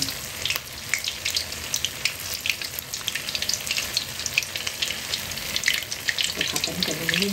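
Eggplant and tofu stir-frying in a pan give a steady, hissing sizzle with frequent crackles and spatters, close up and continuous, while a spatula clatters now and then against the pan.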